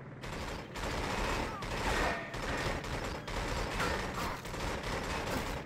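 Sustained gunfire from the video game 007 Agent Under Fire, dense crackling bursts running through the whole stretch with brief dips, fairly loud and continuous, with some voice mixed in.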